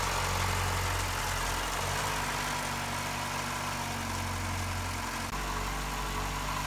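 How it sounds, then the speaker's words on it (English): A 1.3 CVH engine in a Ford Escort mk3 idles steadily after an oil change, its low, even hum continuing close and unbroken with no talking. "you will hear healthy and happy CVH engine sound"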